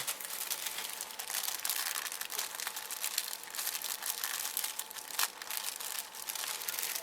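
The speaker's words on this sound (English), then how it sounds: "let's look at the clear plastic here. I'm about to rip this open." Clear plastic packaging on a V.I.N.CENT plastic model kit from The Black Hole being ripped open, a steady close crinkling and crackling with a few sharper tearing snaps, no voices.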